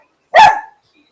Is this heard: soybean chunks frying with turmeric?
no